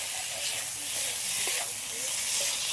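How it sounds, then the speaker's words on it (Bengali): Fried fish, shankar fish, sizzles in a pan as it is stirred into a cooked-down spice paste, a continuous hiss with faint scraping, close by and without speech. "এবার ভেজে রাখা মাছগুলো দিয়ে দেবো। আর একসাথে আবার একটু ভালো করে একটু নেড়ে চেড়ে নেবো"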